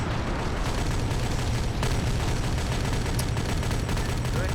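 Ammunition cooking off from a destroyed vehicle in a Warhammer 40K game session, a steady dense rumble of crackling pops and distant booms running continuously, with one sharper report partway through.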